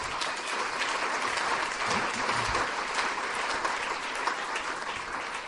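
A church congregation claps in sustained, even applause, dense and moderately distant, with no talking over it.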